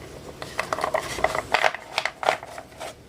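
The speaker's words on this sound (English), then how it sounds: "I'm going to shuffle them overhand" Tarot cards being shuffled overhand by hand in quick, uneven bursts of soft slapping and riffling, close and fairly quiet.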